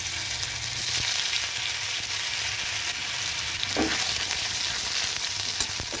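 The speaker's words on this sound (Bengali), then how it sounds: "দিয়ে দিলাম আদা বাটা" Ginger paste frying in hot oil in a kadai, a constant close sizzle with faint stirring taps and one brief scrape partway through, no speech.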